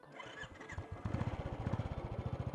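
Motorcycle engine starting and settling into a steady, close, rhythmic chugging idle with regular pulses.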